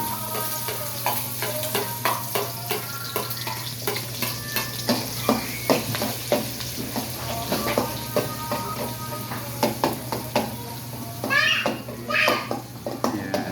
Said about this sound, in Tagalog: unahin nating igisa ay sibuyas